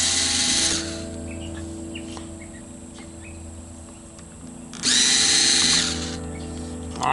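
Power drill backing out truss rod cover screws on a guitar during a setup and fret repair: a loud whirring burst at the start, a quieter stretch, then a second strong burst, close by with no talk.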